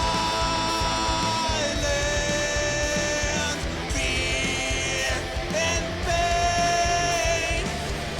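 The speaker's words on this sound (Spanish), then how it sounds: "es nada más como un poquito de eco que se va rápido y le agrega un poquito de distancia también a la voz" Heavy metal vocal mix with a subtle, short delay echo adding a sense of distance to the voice, sung loudly over dense distorted guitars and drums throughout.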